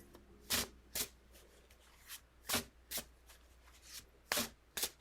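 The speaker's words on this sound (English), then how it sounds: "they are slippery and slippery. But they shuffle so easy" Slippery tarot cards shuffled by hand, about nine quick riffling bursts spaced unevenly apart, crisp and close against a quiet room.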